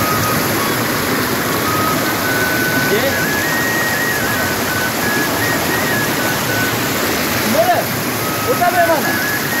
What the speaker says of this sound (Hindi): ये पानी बहुत ज़्यादा पानी, चश्मे का पानी